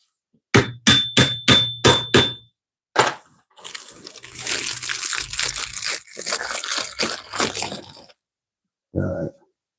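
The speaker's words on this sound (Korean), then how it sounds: "망치로 톡톡 때려주면 들어갑니다." Several sharp taps of a hammer in quick succession fitting gaming chair casters, then a longer stretch of scraping and crunching, and one final knock after a pause.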